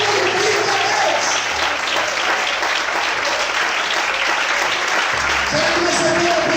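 A church congregation applauds at a worship service, a steady loud wash of clapping that fills the whole stretch, with sustained tones of background music or voices running beneath it.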